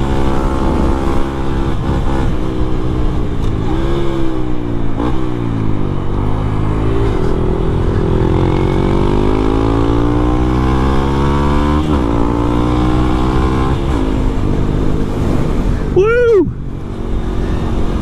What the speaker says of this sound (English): I definitely like the fact that the pipe is on now. You can hear the bike working.